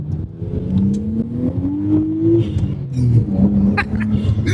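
A Nissan Skyline GTS-T accelerating hard through a pull, its engine note climbing steadily and then dropping back before rising again. The car is heard close and loud from the cabin, with some low background rumble.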